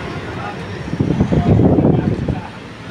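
A Panasonic electric stand fan with a new motor spins close by, giving a steady airy whoosh with a low hum that swells louder through the middle of the clip.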